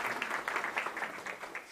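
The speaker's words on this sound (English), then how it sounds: "So I'll give them a round of applause." An audience at a spiritual talk applauds for yoga teacher trainees, a brief burst of dense, steady clapping heard from a distance.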